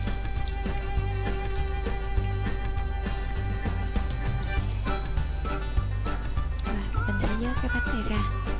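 Banana fritters deep-fry in hot oil during a second frying, giving a dense, continuous crackling sizzle with scattered pops, while someone talks over it.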